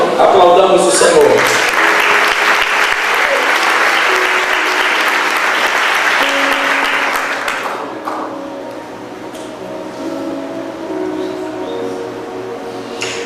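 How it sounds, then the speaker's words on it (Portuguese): A church congregation applauds, loud and dense for several seconds before thinning out, with voices and some music under it. "Aplaudamos o Senhor."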